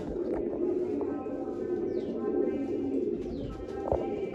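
Domestic pigeons coo softly and continuously at close range, low rolling calls layered with a few faint chirps and light background noise.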